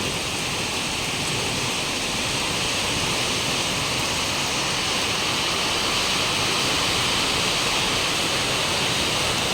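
Drainage water rushes steadily across a flooded road in Hyderabad, a loud continuous broadband wash like a torrent that holds without a break.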